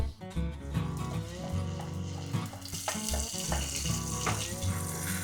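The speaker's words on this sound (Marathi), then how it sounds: "तेल गरम झाल्यावरती ह्याच्यामध्ये मी ही आपण बनवलेली पेस्ट घालणार आहे." Thai green curry paste hits hot oil in a pan, bursts of sizzling and spluttering with clattering stirs over an underlying hum, close and fairly loud.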